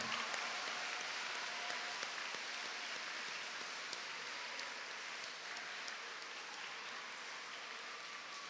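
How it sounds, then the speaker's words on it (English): A crowd at a Veterans Day ceremony applauds veterans and servicemen and women, a long, steady, faint wash of clapping heard from a distance, like light rain. "Can we give one more round of applause to all of our veterans and servicemen and women?"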